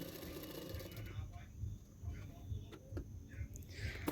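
A sewing machine runs in short bursts while stitching a folded hook strip on a high-neck double katori blouse, a quiet rhythmic whirring and ticking under a voice.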